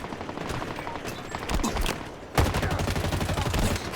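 Rapid automatic gunfire in the video game Halo Infinite: dense, continuous bursts of shots with a sharp, louder burst just past the midpoint, no talking.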